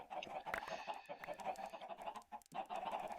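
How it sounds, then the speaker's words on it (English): Chickens clucking in chicken pits in the video game Gult's Gorge, a busy, continuous cluster of overlapping bird calls and squawks filling the whole stretch, fairly loud and close. "Just a couple of chickens in there."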